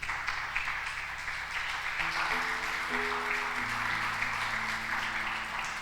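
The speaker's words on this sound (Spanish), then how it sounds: "Dale un aplauso fuerte al Señor." Congregation applauding in a church service, a dense, even patter of clapping that continues throughout at moderate level, with sustained organ or keyboard tones rising underneath partway through.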